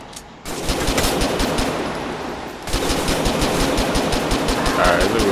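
Sustained rapid machine-gun fire in GTA 4 with army mods, a dense continuous rattle of shots that briefly drops and then resumes, loud and close, with a voice talking over it.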